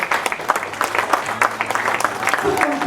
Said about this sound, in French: Applaudissez l'école dominicale.